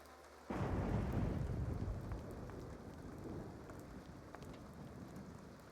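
Heavy rain and rolling thunder from a wedding-day storm in The Sims 2 break in suddenly, then settle into a steady, dense downpour with low rumbling that holds to the end, with no talking.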